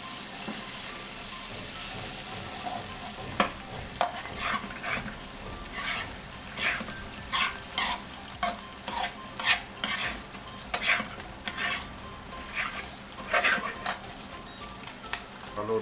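Ingredients for Bicol Express being sautéed and stirred in a pan, with soft sizzling and frying beneath repeated scraping and clinking of a utensil against the pan, close up and without talk.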